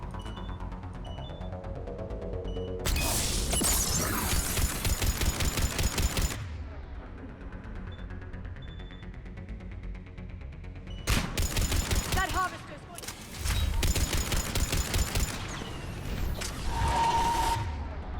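Sustained automatic gunfire against a harvester in the Mass Effect 3 video game comes in three long, loud, rapid bursts separated by quieter gaps of hissing game ambience.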